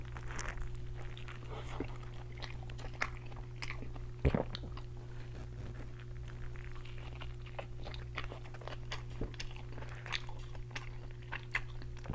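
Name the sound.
biting and chewing a burger with seeded bun and lettuce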